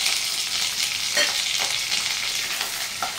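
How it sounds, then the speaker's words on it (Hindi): Curry leaves, four dried chillies and a medium chopped onion fry in hot oil for mutton dry fry, giving a steady loud sizzle with a few brief stirring scrapes and no voices. "इसमें हम थोड़ा करी पत्ता, 4 सूखी मिर्च ऐड कर लेंगे। इसी के साथ 1 मीडियम साइज का प्याज भी चॉप किया हुआ ऐड कर देंगे।"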